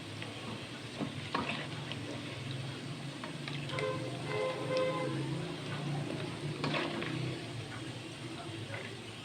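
Steady sizzling of minced meat frying in hot fat, a continuous crackling hiss with occasional clinks and stirring sounds close by.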